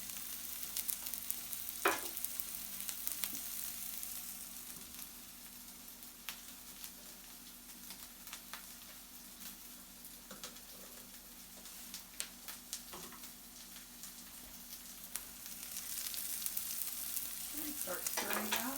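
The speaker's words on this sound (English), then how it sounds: "Start stirring that." A corn cake mixture stirred in a heated pan gives a soft continuous sizzle with scattered light scrapes and ticks from the utensil, louder at the start and end.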